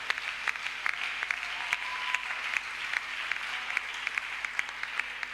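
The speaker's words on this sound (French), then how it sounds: "Est-ce que tu peux donner une bonne acclamation que j'avance?" Applause from a church congregation during a night-time Ascension service, a steady dense patter of many hands clapping at moderate distance, continuous and fairly even throughout.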